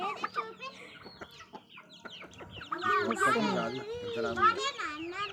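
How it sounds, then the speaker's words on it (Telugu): Chickens cluck and a rooster calls nearby, with a voice and other chatter mixed in throughout. "ఇది మామూలు కోడి, అది పుంజు."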